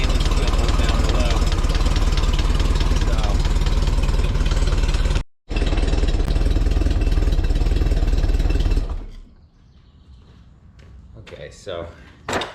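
A 1961 VW Beetle engine idles steadily and loudly up close for about nine seconds with one brief cut, then shuts off, leaving quiet room noise and a few light knocks.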